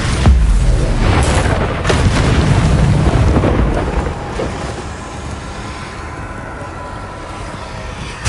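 A Bombarda blasting spell explodes in Hogwarts Legacy: a loud, rumbling boom with heavy low-end thunder that swells at the start and slowly settles into a fading roar over several seconds.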